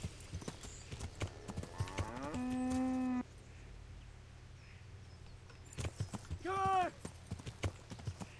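Cattle in the video game Kingdom Come Deliverance give two drawn-out moos amid steady clip-clopping hooves and a low background hum, with someone talking over parts of it.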